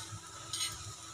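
A chapati cooks in oil on a pan, a soft steady sizzle and crackle heard close but faint over the whole brief moment, with a slightly brighter hiss near the middle.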